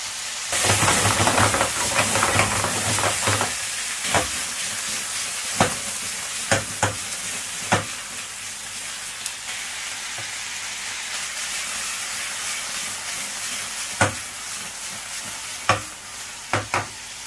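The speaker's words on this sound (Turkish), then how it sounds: "Kızgın yağın içerisine koyuyoruz. Güzelce soteliyoruz." Loud, steady sizzling of chicken strips sautéing in hot oil, with occasional clinks and scrapes of a utensil stirring the pan.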